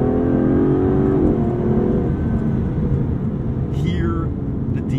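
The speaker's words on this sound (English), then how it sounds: "lets you uncork a little of that V12" Aston Martin DB11 V12 engine pulling under load, a loud sustained drone with a falling then steady pitch and a gear change, heard from inside the car with a voice talking over it.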